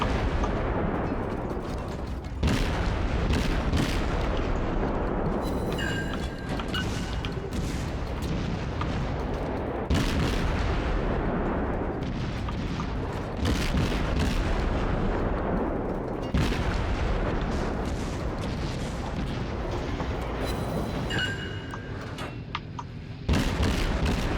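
Warship artillery in the World of Warships game, heavy booming salvos landing every few seconds over a constant loud rumble of battle.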